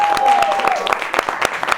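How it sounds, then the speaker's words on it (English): Audience clapping for a live talk show host, with sharp, uneven claps from a fairly small group close by and some voice mixed in at the start. "Clap for me."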